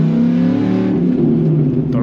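A 2006 Dodge Ram SRT10 Viper truck pulls away hard in first gear, its engine roaring loud and close with a deep, steady drone as the tires break loose, the pitch sagging slightly near the end.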